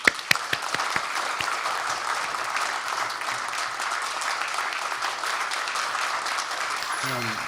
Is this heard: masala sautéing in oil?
no